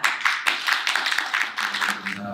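Church congregation applauding for a visiting pastor, close and lively clapping with several sharp individual claps standing out from the crowd, fading into quieter sounds at the end.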